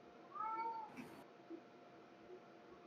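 A cat yowls once in a drawn-out, wavering cry against low background hiss, followed by a few faint bumps and soft noises.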